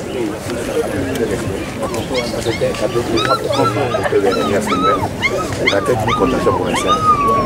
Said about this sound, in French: a reçu un chiot comme cadeau